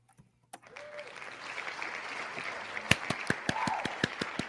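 A canned clapping sound effect plays as a bowling team is announced: crowd applause swells up from near silence, and sharp, evenly spaced individual claps punch through it toward the end.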